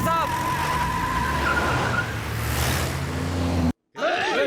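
A car starts and pulls away in a Hindi-dubbed movie scene. The engine roars loudly and tires skid, with a short voice mixed in, then a brief cut before another burst of motion.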